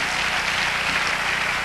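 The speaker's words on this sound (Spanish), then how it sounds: "Démosle un aplauso al Señor." Church congregation applauding together, a steady dense wash of clapping filling the room at moderate loudness with no talk over it.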